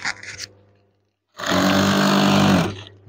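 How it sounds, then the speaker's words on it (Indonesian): A sewing machine runs steadily for about a second and a half, stitching the hem of a green eyelet curtain, after a brief rustle of fabric and a pause of silence. "Terus kita jahit."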